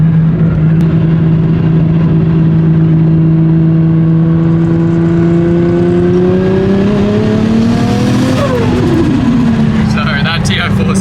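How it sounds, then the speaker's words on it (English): A turbocharged RB26 engine in a Nissan S15 revs up on a dyno, a loud, sustained drone that climbs steadily in pitch, peaks, and then drops away with a fluttering blow-off release at the end. "I really enjoyed the turbo because it sounds friggin' insane, as we will prove right now."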